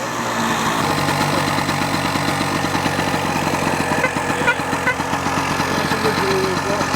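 A classic motorcycle engine at a motorcycle festival at Donington Park fires up and settles into a loud, close, rhythmic idle with a steady pulsing beat, while people talk nearby.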